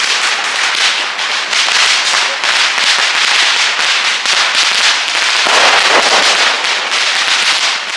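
Rapid strings of firecrackers at a wedding in Brussels pop and crackle loudly and continuously, dense bursts with no pause throughout.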